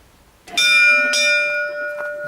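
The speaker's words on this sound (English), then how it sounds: "Let's ring the bell." A bell at Worb Castle rings out with two bright struck peals, the second following about half a second after the first, each leaving a long shimmering ring that fades slowly, loud and close.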